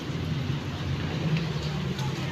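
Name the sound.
rain falling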